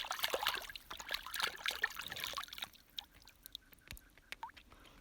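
A cleaned brown or rainbow trout is rinsed by hand under splashing, trickling water, close and fairly soft, fading after a few seconds into scattered drips and light handling noises.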